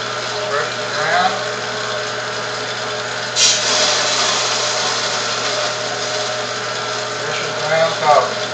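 A Hobart Model 3430 coffee grinder in excellent condition runs steadily while grinding coffee at a medium setting, giving a continuous motor whine with brief faint sounds now and then.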